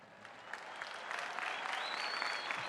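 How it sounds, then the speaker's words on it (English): Commencement crowd at Ohio State University's spring 2024 ceremony applauding the graduating class, a broad, building wash of clapping from a large audience, heard at a distance with a faint whistle above it. "So let's one more round of applause for the class."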